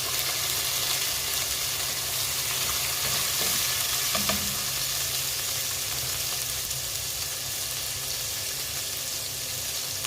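Garlic and onion frying in reused cooking oil in a home kitchen, a steady dense sizzle throughout with a brief stir or clink partway, no talking.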